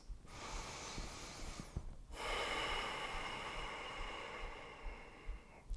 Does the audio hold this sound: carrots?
no